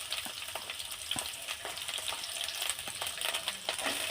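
Chopped tomato and green chilli fry in a pan with a steady, dense sizzle that carries on evenly throughout, close and moderately loud, with faint crackles scattered across it and no voices.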